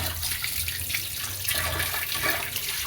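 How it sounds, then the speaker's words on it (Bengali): Tap water runs steadily as fish is rinsed clean, a close, continuous splashing rush with no talking over it. "আমি মাছটা ভালো করে ধুয়ে নিই এই মাছ ভালো করে ধুবো"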